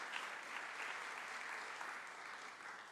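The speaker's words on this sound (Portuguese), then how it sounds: "Dê uma linda salva de palmas à vida adulta que você tem." A steady round of applause from an audience, dense, even clapping that holds at a moderate level throughout without rising or stopping.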